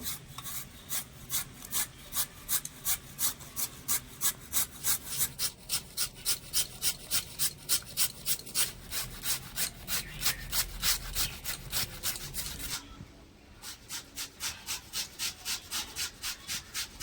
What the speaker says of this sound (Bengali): এরকম একটা গ্রেটার নিয়েছি এবার গ্রেটার দিয়ে একটু গ্রেট করে নেব